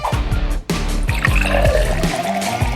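Fanta soda poured into a glass filled with fruit and berries makes liquid gurgling and fizzing, with a brief gap before a continuous splashing pour.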